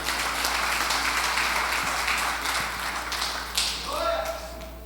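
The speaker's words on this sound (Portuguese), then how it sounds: "Aplauda o Senhor porque Ele é bom." A church congregation at a men's worship service claps together in a steady, moderately distant wash of applause that gradually fades, with a voice briefly rising near the end.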